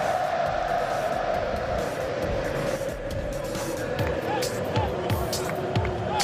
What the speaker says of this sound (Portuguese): E hoje tem essa reação da torcida, ó.